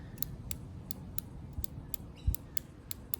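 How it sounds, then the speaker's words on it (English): A Seiko Solar Tuna SNE498 dive watch bezel being rotated, giving a steady run of crisp, close ratchet clicks about every third of a second over faint background hiss, with no talking. "I think the bezel movements is a 60 click or 120."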